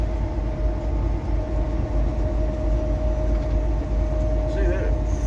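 Freight train locomotives rumble steadily at a distance beside grain elevators, a constant low drone and rolling noise with a faint tonal hum and wind, under occasional speech.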